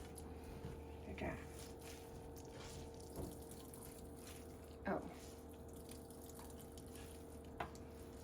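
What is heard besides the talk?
water squeezed out of chopped Napa cabbage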